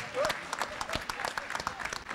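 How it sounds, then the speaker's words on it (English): Scattered applause from a small audience, the claps irregular and moderately loud, fading into a sparse patter. "Big round of applause for those that shared some stories."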